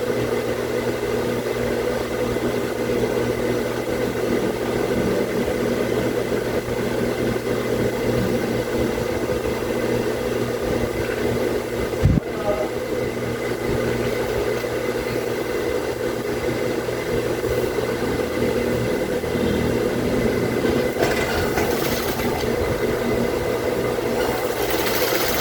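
A sewing machine stitches a top seam on a short school uniform, running in a steady, even whir that continues for a long stretch with a single brief knock partway through, no voices heard.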